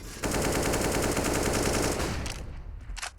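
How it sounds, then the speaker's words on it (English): Rapid AK-47 automatic fire sprays through smoke in a CS:GO match on Nuke, a loud unbroken burst of about two seconds followed by scattered quieter shots. "That's a scary sound, an AK spam through the smoke there"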